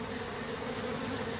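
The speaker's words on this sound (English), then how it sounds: "more and more bees are leaving the hive and coming here" Honey bees swarming around a beehive in a tree, a dense steady buzz with no breaks, close and moderately faint.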